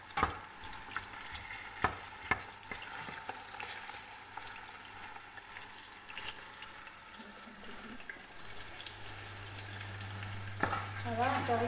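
Onions sautéing in a pan for an African-style riz gras, a steady soft sizzle running throughout with a few sharp clinks and stirring scrapes early on, the frying growing a little louder toward the end.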